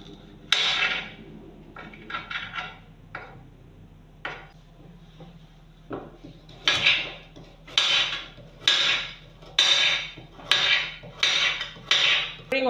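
A knife chops vegetables on a board while chicken curry sauce is made, first in sparse, uneven cuts, then in a steady run of loud, close, evenly spaced chops.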